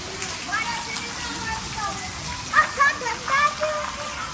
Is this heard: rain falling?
yes